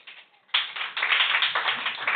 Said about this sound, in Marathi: ज्यांनी एकदम काळजीपूर्वक बघितलं त्यांच्यासाठी टाळ्या